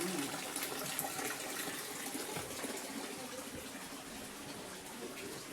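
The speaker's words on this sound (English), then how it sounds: "Love this waterfall here." The waterfall at Frank Lloyd Wright's Fallingwater rushes in a steady, dense hiss of falling water that never lets up.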